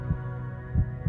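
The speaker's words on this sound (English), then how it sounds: "Love and fear can both get the heart pounding." A pounding heartbeat throbs low and steady, with three deep, close thumps spaced under a constant hum and no voices.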